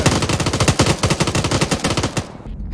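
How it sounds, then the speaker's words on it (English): Automatic rifle fire in Arma 3, a loud rapid unbroken burst of shots close by that cuts off abruptly near the end, with no talk over it. "Can you stop firing at nothing?"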